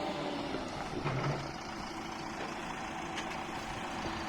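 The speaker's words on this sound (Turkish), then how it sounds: "İki traktörle çekiyoruz aslında. Şuna bu önden halatla çekiyor." Two farm tractors, an Erkunt 110 CRD and an Erkunt 100, pull together, one towing the other by rope, their engines giving off a steady, close diesel drone with no talk.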